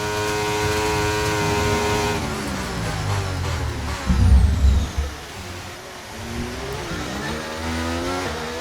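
An F1 race car engine in F1 23 screams at high revs, its pitch sweeping down and back up through gear changes, with a rumbling burst mid-clip, loud and close throughout.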